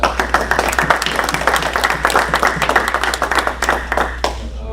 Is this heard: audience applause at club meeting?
yes